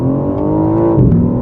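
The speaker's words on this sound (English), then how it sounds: "building up the revs, preparing launch control, it's ready, letting go" A BMW M4 Competition coupe's engine roars hard under a launch-control start, a loud, dense, steady rising drone with rich harmonics and a slight shift near the end, heard from inside the cabin.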